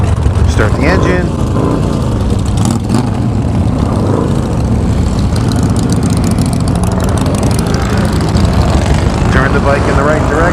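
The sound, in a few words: Harley-Davidson motorcycle engine starting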